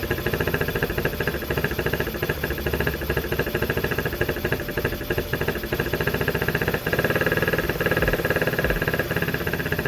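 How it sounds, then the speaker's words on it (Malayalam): A scooter engine runs with both air filters removed, idling steadily at close range with a rough, rhythmic knocking pulse throughout and no talk. "നമുക്ക് ഈ സ്കൂട്ടർ എയർ ഫിൽറ്റർ രണ്ടും ഇല്ലാതെ ഒന്ന് സ്റ്റാർട്ട് ആക്കിയിട്ട് സൗണ്ട് ഒന്ന് കേട്ട് നോക്കാം"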